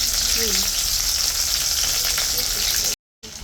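Bay leaf, cardamom and chili paste sizzling loudly in hot oil in a frying pan while cooking a Bengali desi chicken curry, a continuous close hiss with a faint stir, then a brief cut of silence.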